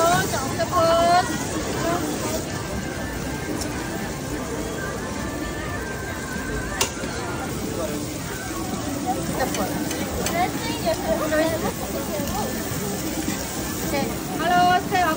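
Busy crowd at Myeongdong Night Market in Seoul, Korea, with food stalls: a dense, constant babble of many voices mixed with sizzling frying and clattering, close and steady throughout.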